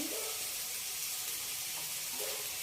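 Potatoes for aloo 65 sizzle and fry steadily in hot oil in a home kitchen, a continuous close hiss with faint stirring, no voices.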